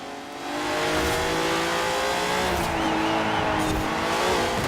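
The Hot Wheels Twin Mill in Forza Horizon 4 revs hard and climbs steadily through its engine note, loud and close, with a faint tire squeal as it accelerates.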